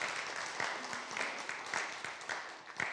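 Congregation at a Filipino Nazarene church's Sunday morning service clapping together, a moderate, steady patter of applause with some sharper individual claps, under faint background murmur.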